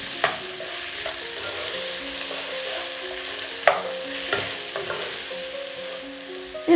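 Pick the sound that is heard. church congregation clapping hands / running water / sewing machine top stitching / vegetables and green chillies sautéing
vegetables and green chillies sautéing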